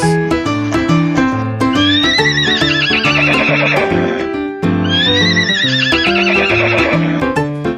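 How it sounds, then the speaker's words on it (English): A horse whinnies twice, loud and high, over a busy musical backing of plucked and bell-like tones, with no talking. "It's a horse."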